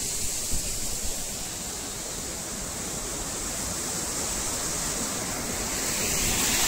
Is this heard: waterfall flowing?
yes